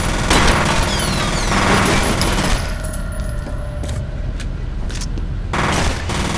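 Bullets unloaded from a gun in the shooter game F.E.A.R., a loud, dense burst of rapid automatic fire in the first seconds, easing into a rumbling tail before a second short volley near the end.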